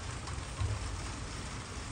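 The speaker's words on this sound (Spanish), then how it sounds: "Dándose su primer baño de temporada en la lluvia." Steady, faint rain hisses continuously, with a soft low rumble underneath and no voices; a hummingbird bathes in it.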